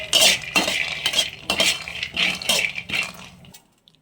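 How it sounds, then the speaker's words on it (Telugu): Roasted nuts and dry fruits for dry fruit laddu are stirred together in a metal vessel, giving a steady run of close, rhythmic clinks and rattling scrapes about twice a second before stopping abruptly. "అన్నీ వేయించినవి ఇలా మనము కలుపుకోవాలి"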